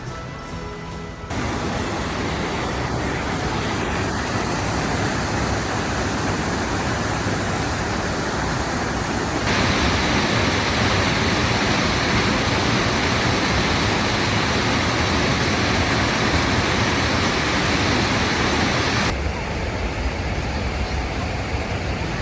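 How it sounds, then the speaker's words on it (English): A forest waterfall in Olympic National Park roars continuously, a dense broadband rush of falling water that stays loud and steady throughout, with a slight shift in tone partway as the position changes. "can hear that we're coming up to the falls pretty quick"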